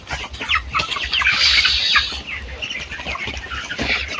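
Chickens on a poultry farm with raised plastic-net platforms cluck and chatter steadily, a dense flock sound of overlapping calls close by, without any talk.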